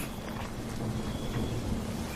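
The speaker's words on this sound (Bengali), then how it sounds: "একসময় শুরু হলো তুমুল ঝড় বৃষ্টি।" Steady heavy rain pours down with a low rumble of thunder beneath it during a thunderstorm with strong winds, a dense wash of storm noise throughout.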